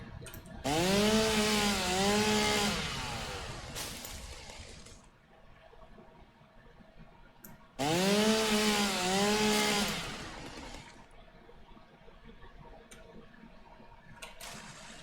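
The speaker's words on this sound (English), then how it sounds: "are you running the chainsaw? Yep. I can hear it." A chainsaw in the video game Satisfactory revs loudly in two long bursts, its whining pitch rising and falling, with a quiet pause between them.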